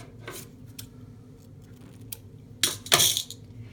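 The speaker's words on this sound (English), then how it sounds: "Then I'm going to cut this in half" Scissors snip through a length of paper or ribbon while making a junk journal stationery gift, two close crisp cuts near the end after a few faint snips, no voices.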